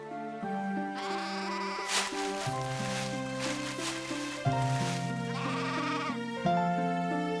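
Cartoon lamb bleating repeatedly in a Bible story animation, several wavering bleats over background music, clear and close.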